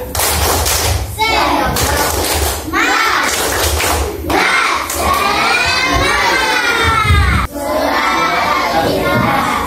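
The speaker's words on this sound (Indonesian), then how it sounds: "tepuk semangat dulu. Tepuk semangat." A classroom of children performs a spirit clapping chant, shouting loudly together in rhythmic bursts with sharp claps, crowd-like and energetic throughout.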